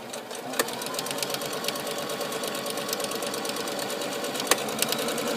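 A sewing machine set to stitch a buttonhole runs at a steady pace, its rapid needle clatter forming an even mechanical rhythm with a couple of sharper clicks, close and alone without talk.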